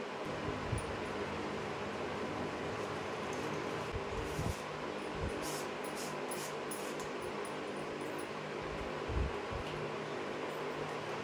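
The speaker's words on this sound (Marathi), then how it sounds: "आणि याला मिक्सरमध्ये फिरवून घेते" A mixer grinder whirs steadily at close range as it grinds tamarind for chutney, a loud continuous motor drone with a few faint knocks and clatters within it.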